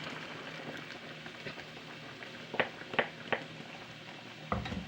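Masala being stirred into chicken gravy in a pan, a low continuous sizzle with a few soft, quick scrapes and clinks of the spoon near the end.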